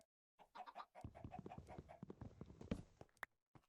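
Chickens clucking in the Minecraft snapshot 25W32A, a quick series of close, fairly quiet clucks and squawks with no talking over them.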